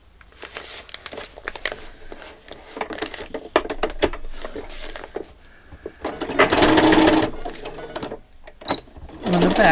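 A sewing machine stitches a soft journal cover with black thread, giving bursts of rapid mechanical clatter broken by pauses, with crinkling and handling noises of the fabric and paper between the runs.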